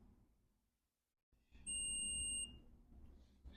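A multimeter continuity tester on a MacBook Pro 15-inch A1707 logic board with a no-power fault gives one steady, clear electronic beep of about a second, sounding after a short silence over low bench noise.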